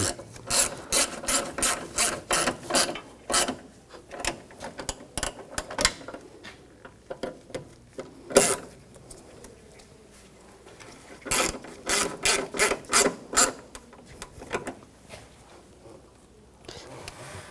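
Close-up, a hand ratchet tightens headlight bolts on a 2000-2006 BMW X5 in quick rapid clicking bursts with pauses between them and no talk.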